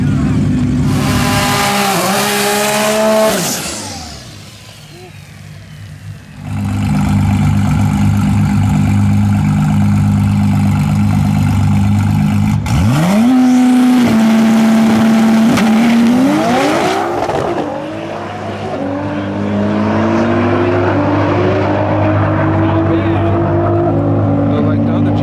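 Nissan GT-R drag cars at a TX2K21 race event: loud, sustained engine roar with rising revs and shifts, close by, over crowd noise.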